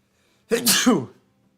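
A single sharp sneeze bursts out close to the microphone, a quick breathy intake followed by a loud explosive release, then quiet.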